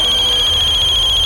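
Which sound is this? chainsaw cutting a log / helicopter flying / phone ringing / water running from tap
phone ringing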